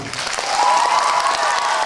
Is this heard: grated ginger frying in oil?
no